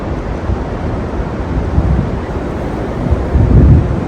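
Steady, roaring wind buffets the microphone, a low rumbling gust that swells louder toward the end, with no voices.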